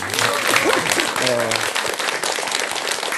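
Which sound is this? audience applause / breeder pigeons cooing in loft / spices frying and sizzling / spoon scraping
audience applause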